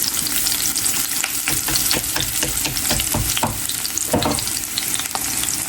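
Onion sizzling and frying in a pan, a dense crackling hiss with repeated stirring scrapes, close and steady with no talking.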